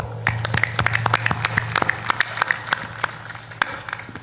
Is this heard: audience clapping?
yes